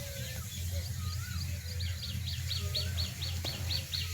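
Pigeons fill a loft in Banaras with a continuous mix of soft cooing and rapid chirps over a low steady hum, close and busy throughout.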